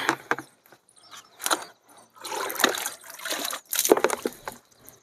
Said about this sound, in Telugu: సరే ఇప్పుడు వాటరింగ్ చేసుకోవాలి ఫ్రెండ్స్.